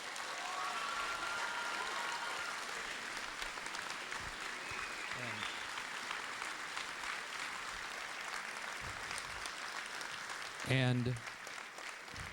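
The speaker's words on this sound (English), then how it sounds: "Big round of applause for the seniors." An audience at a fall high school band concert in Port Huron applauds the graduating seniors, a steady wash of clapping lasting throughout with a brief voice and a louder burst near the end.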